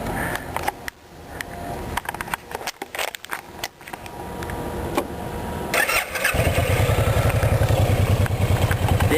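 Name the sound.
V-twin motorcycle engine starting and idling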